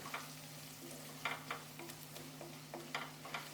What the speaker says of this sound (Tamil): இப்போ இது எல்லாத்தையும் எண்ணெயில நல்லா ஃப்ரை ஆகணும்